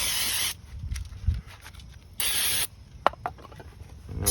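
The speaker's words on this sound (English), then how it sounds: "Hit it with the brake cleaner as well." Brake cleaner sprayed from an aerosol can onto a 2017 Nissan Murano front brake caliper, two loud sharp hissing bursts about half a second and two seconds apart, separated by quieter clinks and handling noises, close up.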